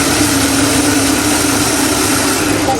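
Industrial sewing machine stitching a mattress topper in a factory, a loud continuous mechanical whir with a steady hum and no breaks.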